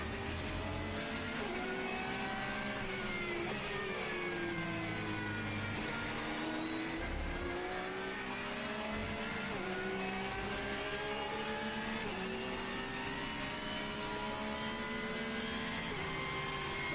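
Onboard race car engine at the Japan Cup, Fuji, revving hard and continuously through rising and falling gear shifts, loud and close with no talk.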